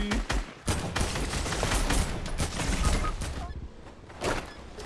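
Rapid gunfire in a video game, a dense fusillade of sharp cracks and bursts, some close and loud and others fainter, continuing without pause.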